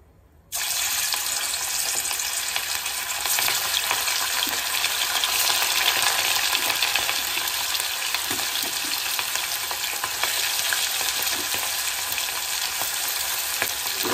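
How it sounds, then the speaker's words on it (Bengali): Ariya tengra fish hit hot oil in a wok and set off a loud, continuous frying sizzle that starts abruptly and keeps up a dense, steady hiss with faint crackles and no talk. "কড়াইটা ভালোভাবে গরম হয়ে গেছে, এবারে আমি মাছগুলো দিয়ে দেবো একে একে।"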